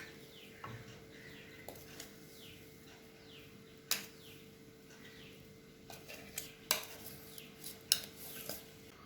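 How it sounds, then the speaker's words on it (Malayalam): Cashew ball (kashuvandi unda) mixture being moved onto a plate: faint, scattered clinks and scrapes of a utensil against metal, with quiet pauses between them and no speech. "ഇത് നമുക്ക് ഒരു പ്ലേറ്റിലേക്ക് മാറ്റാം"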